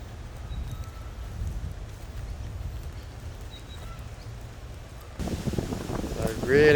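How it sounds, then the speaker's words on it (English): Strong wind gusts of roughly 30-40 knots sweep across an outdoor disc golf course in Adelaide, South Australia, a steady low buffeting that swells into a louder, harsher rush near the end. "So really big gusts have come up, probably 30-40 knots."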